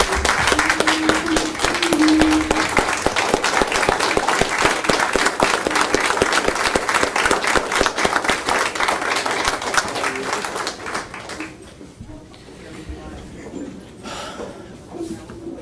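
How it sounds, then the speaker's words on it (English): A room of people at a city council meeting gives a sustained round of applause, dense clapping filling the space for about ten seconds before thinning out to scattered claps and shuffling. "Will you join me in a round of applause for him, please?"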